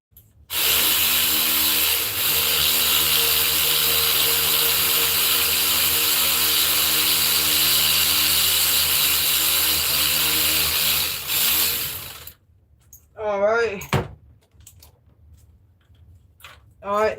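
A quarter-inch ratchet backs a screw out on a 2018 Ford Explorer 3.7 during timing chain work, a loud continuous mechanical whirring buzz for about eleven seconds, then it stops and someone talks briefly.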